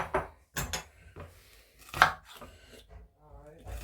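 Onions chopped with a knife on a board for air-fryer sautéed potatoes with bacon, a handful of irregular, sharp close knife thuds separated by short pauses.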